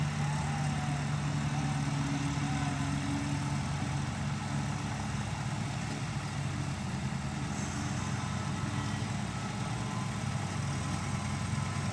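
Several tractors, nine in all, rumble together in a low continuous idle-like drone as they haul a stuck paddy trolley through a wet field, with a steady, unbroken engine texture and no clear speech.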